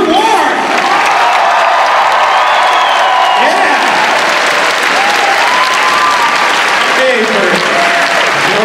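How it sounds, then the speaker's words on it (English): A large crowd at a Denver Comic Con 2014 panel claps and cheers loudly and continuously, with whoops and shouts over steady applause throughout. "So let's give it up, guys. Holy applause"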